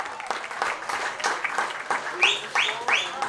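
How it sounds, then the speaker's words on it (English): A crowd at a college baseball game between the Johnson County CC Cavaliers and the Labette CC Cardinals claps at a moderate distance. The applause comes in scattered bursts, with a few sharper whistle-like sounds near the end. "That deserves every bit of applause here in attendance."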